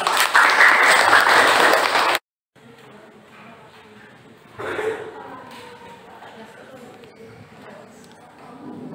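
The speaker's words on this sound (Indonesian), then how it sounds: "Tepuk tangan untuk kelompok 3." Classroom group applause for the third presenting group, a loud dense burst of clapping for about two seconds that stops abruptly, followed by quieter room noise and murmuring voices.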